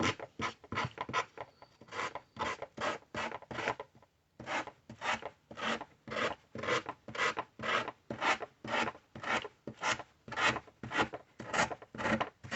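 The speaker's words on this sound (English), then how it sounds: "I'm just going to go in with my sanding block, getting rid of all those edges" Rhythmic rasping strokes of a sanding block scrape back and forth, close and steady, pausing briefly before resuming at the same even pace.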